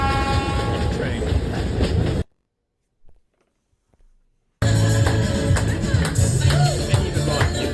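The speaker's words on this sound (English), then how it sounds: "this was all this train going just beside that river that's down there the whole way" Train running alongside a river in Peru on the way toward Aguas Calientes, a steady rumble of rolling wagons with clatter and a horn-like tone, cutting out into near silence for a couple of seconds midway before the loud running resumes.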